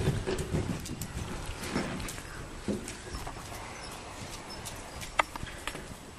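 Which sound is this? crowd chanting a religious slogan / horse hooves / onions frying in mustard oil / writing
horse hooves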